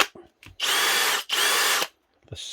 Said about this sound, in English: The Skil brushless cordless drill.